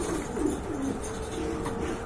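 Large, long-bodied rare pigeons coo in low, soft, rolling calls, a few close murmured phrases over a busy background hum at a pigeon sale.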